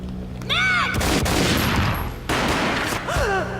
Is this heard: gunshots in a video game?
yes